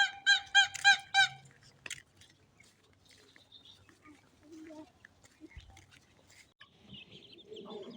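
Chickens cluck in a quick run of loud, close, rhythmic squawks at the start, then scattered fainter fowl calls and rustling follow, with a voice speaking nearby.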